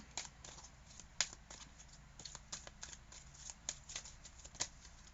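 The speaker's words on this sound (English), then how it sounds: "now I'm going to go ahead and shuffle the deck for Virgo" Soft crisp riffling of a deck of tarot cards being shuffled, quiet and repeated in short bursts with small sharp snaps, no talking.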